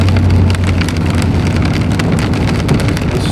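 Heavy rain pours down as a big storm blows in, a loud, dense, continuous patter drumming on surfaces close by, with a low rumble underneath and no voices.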